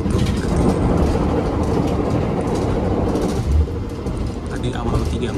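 KA Taksaka passenger train at Kutoarjo station, Indonesia, on a Jogja–Jakarta run: steady loud rumble of rolling rail cars throughout, with a brief thump midway and a voice speaking over the noise.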